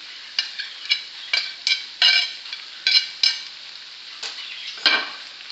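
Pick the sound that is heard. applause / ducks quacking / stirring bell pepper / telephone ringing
stirring bell pepper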